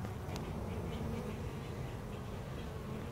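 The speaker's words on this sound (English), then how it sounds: "the bees are highly agitated. They're up in my face." Agitated bees from a hive in a flower pot buzz continuously and close by, a dense, steady drone with individual insects whizzing past.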